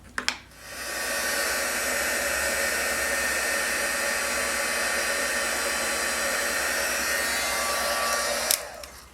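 A heat embossing tool melts silver embossing powder on a paper card, blowing a steady loud whoosh for about eight seconds between brief clicks as it switches on and off.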